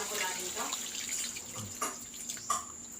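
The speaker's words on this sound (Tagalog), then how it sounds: "mag-add na tayo ng tubig" Water pours steadily into a cooking pot of vegetables seasoned with soy sauce and vinegar, a continuous close splashing rush with a couple of small knocks.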